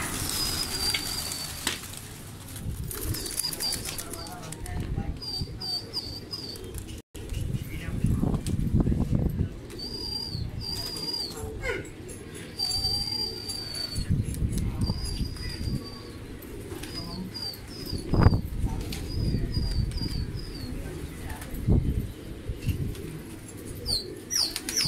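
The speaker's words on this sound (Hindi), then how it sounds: "ये दूसरे कबूतर खुल चुके हैं 5 बजे वाले" Pigeons of a pigeon keeper, a flock released for the five o'clock flight, coo and chirp with bursts of wing flapping, moderately close outdoors, while someone talks over the birds.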